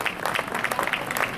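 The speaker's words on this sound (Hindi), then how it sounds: "ताली थोड़ी सी कमजोर है" Brief burst of audience applause at a stage event in Gahmar, Ghazipur, Uttar Pradesh, a fairly thin patter of claps lasting about a second and a half.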